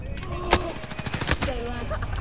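Bursts of PKM machine gun fire in Call of Duty: Modern Warfare, rapid crackling shots amid other game noise, fairly loud and close.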